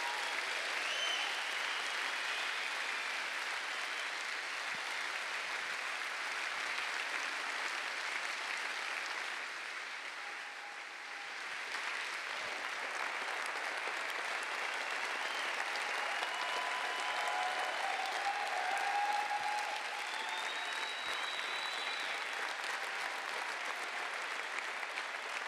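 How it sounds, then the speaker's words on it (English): A church conference audience claps warmly for a sustained stretch, dense even applause filling the room, easing briefly midway before swelling again, with no voices over it. "Let's just give them a good hand clap."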